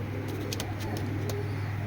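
A pair of foreign-breed pigeons hatched in 2021, a male and a female, coo softly in low, murmuring tones under a steady background hum.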